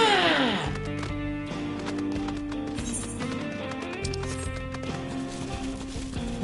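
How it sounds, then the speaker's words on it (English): Horse mount hooves in Final Fantasy XIV clop steadily under game music, a regular rhythmic trot mixed with tonal score and effects, no talk. "One thing I like about using this horse is it's slower than the bike."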